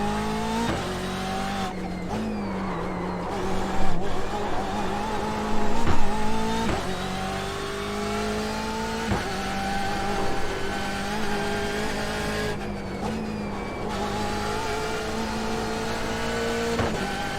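Simulated racing car from a sim racing game, engine revving and shifting through gears in a steady loud drone with tire squeal and skids mixed in, no talking.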